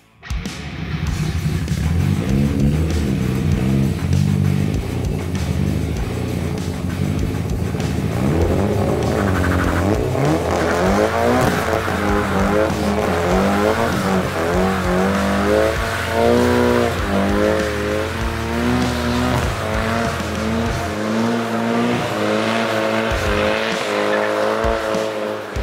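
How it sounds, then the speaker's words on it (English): A car doing a burnout, engine revving hard under a loud continuous tire squeal with shifting pitch, sustained and close for over twenty seconds. "Something that happened this year that I didn't expect was that amazing burnout that Pat did."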